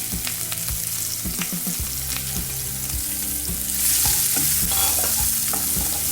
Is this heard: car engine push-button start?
no